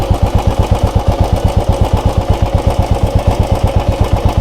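Royal Enfield Bullet 350 engine idling up close, a loud, even thump-thump beat repeating rapidly and steadily with a mechanical clatter on top, no voices.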